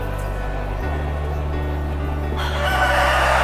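Loud crowing of Bangkok long-tailed roosters at a rooster contest in Pekalongan carries over a steady background hum, with drawn-out calls from several birds close by.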